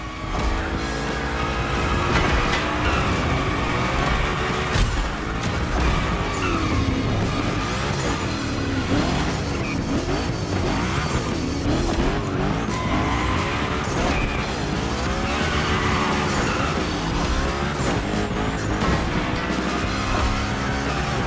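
Hoonicorn in The Crew Motorfest slides through gymkhana runs, its engine roaring loud and continuous with tire squeal and skidding across the whole stretch, layered over steady game music.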